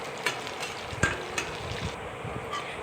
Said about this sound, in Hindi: तो मैंने काजू तो ऐसे डाल दिए थे पर बादाम को मैंने ऐसे चॉप कर दिया है। और फिर अच्छे से लाल लाल भून लेंगे धीमी आंच पे।